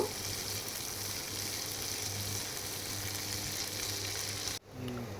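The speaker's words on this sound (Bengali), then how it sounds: "একটা বড় সাইজের পেঁয়াজ দিয়ে দিলাম কেটে পেঁয়াজটাকে একটু গোল্ডেন ব্রাউন করে নেব" Chopped onion fries in oil toward golden brown, a continuous even sizzle held at one level for several seconds before briefly dipping near the end.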